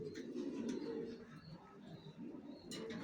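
Young racing pigeon chicks of a large long-bodied breed cooing in a loft, a continuous low throaty murmur with soft overlapping coos and faint chirps close by.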